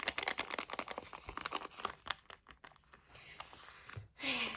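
A paper surprise packet is torn open by hand, giving a close run of crinkling and ripping bursts followed by a short tearing rip near the end.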